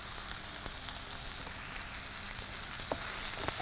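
Small shallots sautéing with a pinch of salt in a pan give a steady, close, bright sizzle, with a few soft stirring clicks and no talking.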